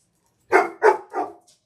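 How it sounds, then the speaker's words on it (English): A dog barks three times in quick succession, close and fairly loud, with a faint yip trailing after; no talking over it. "this barking has got to stop, Anne-Marie."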